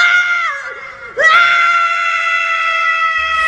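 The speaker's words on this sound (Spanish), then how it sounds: "La escena de Gohan gritando, pe." A long, loud anime scream from the character Gohan, a strained sustained yell with a short dip near one second before surging back louder and holding steady to the end, with no talk over it.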